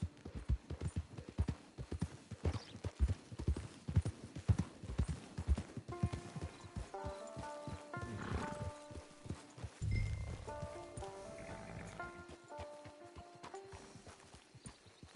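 Rhythmic horse hooves in Red Dead Redemption 2 Online clip-clop at a steady trot, then slow and fade as game music with sustained tones rises underneath.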